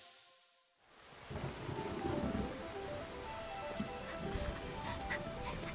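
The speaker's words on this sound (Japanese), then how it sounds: "だいぶ雨だね。" Steady rain falls in The Legend of Zelda: Breath of the Wild, a dense hiss of drops that swells in after a brief near-silent gap and holds loud, with faint rumbling beneath and no voices.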